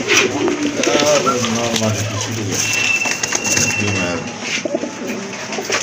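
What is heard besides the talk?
pigeons cooing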